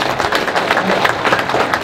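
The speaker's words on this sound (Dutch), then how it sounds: "Graag jullie applaus voor Melle." A crowd at a local award presentation breaks into brisk, close applause, a dense rattle of many hands clapping steadily for a couple of seconds.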